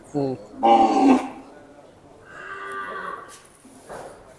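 A Deoni cow lets out a deep, drawn-out moo, followed by a softer lowing call a moment later, fairly close by, at a cattle shelter.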